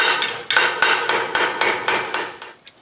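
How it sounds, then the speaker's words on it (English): Hammer strikes on a dolly flattening a bent rusty sheet-metal door jamb on a Ford Model A roadster, about nine sharp metallic blows in a steady rhythm, close and loud, with no talking. "now I can take a hammer and dolly here"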